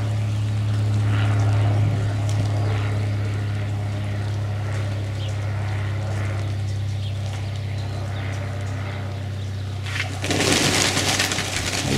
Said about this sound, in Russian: Вот самолетик пришел, может,